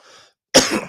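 A single sharp cough bursts out close and loud after a faint breathy sound and a moment of silence, with a rough throat-clearing edge.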